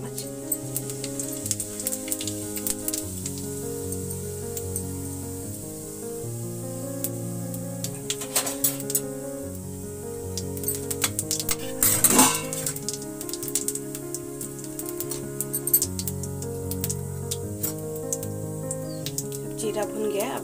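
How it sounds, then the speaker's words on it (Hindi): A teaspoon of cumin seeds sizzles in hot oil in a wok, a steady crackling hiss with brief louder spatters, while someone talks over it. "तेल गरम हो गया कढ़ाई में, तो इसमें डालेंगे जीरा 1 छोटी चम्मच"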